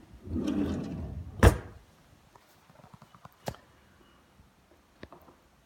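Drawers in a house interior are opened and shut: a loud sliding rumble ends in a sharp bump, followed by a scatter of softer wooden clicks and knocks and one last small thud.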